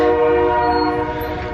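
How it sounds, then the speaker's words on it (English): A passing train in Oakland blasts its horn in a loud, sustained chord that holds for the whole moment, with a low rumble of the rails beneath and no talking. "shut up train"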